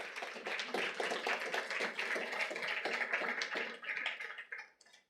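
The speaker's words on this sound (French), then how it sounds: "je vous prie de donner une grande main d'applaudissement à Jean-Pierre Dubé de Coboom" Audience applause at an evening meetup, a dense crowd of hand claps rolling steadily for several seconds before thinning out, fairly close with no talk over it.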